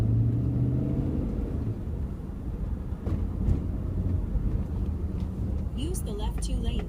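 Car driving in traffic toward the LA freeway from Santa Clarita Valley, heard from inside as a steady low road rumble, with a voice talking over it at first and a few brief higher sounds near the end.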